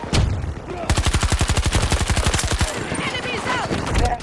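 Rapid automatic gunfire in Battlefield 2042, a sustained burst of about twenty evenly spaced loud shots after an opening single shot, followed by scattered game effects and a final shot.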